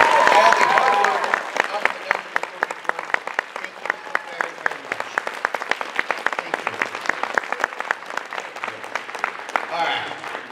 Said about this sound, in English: please give them a tremendous round of applause